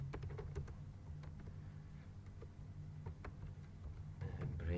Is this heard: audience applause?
no